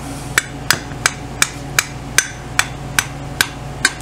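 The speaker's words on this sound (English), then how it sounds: "I'll tap that in the rest of the way and I'll put the other one on." Sharp metallic hammer taps strike in a steady rhythm, about ten evenly spaced blows, driving a part into a 1959 BSA C15T motorcycle over a low background hum, with no talking.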